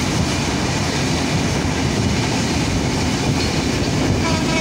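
Shah Fateh Ali passenger train running past at close range, a steady loud rumble of wheels and cars with faint rail clatter throughout, no voices.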